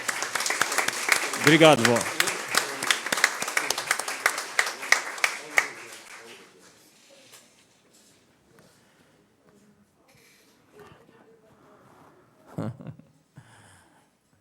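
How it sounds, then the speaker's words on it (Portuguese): Applause for an honoree at a solemn session in a hall, rapid clapping that fades out after about six seconds, followed by quiet room sounds and brief speech. "mais uma salva de palmas para ela, porque ela merece"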